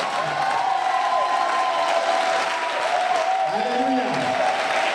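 An audience at a church retreat applauding and cheering to praise God, steady clapping and crowd noise throughout with voices rising above it.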